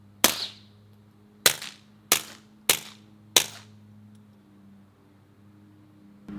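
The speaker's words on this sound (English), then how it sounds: "let's go ahead and we'll put 5 rounds through this one" Five gunshots fired through a 3D-printed suppressor, sharp muffled cracks, the first alone and the last four in a quicker run, each followed by a short decaying tail, outdoors with no talk.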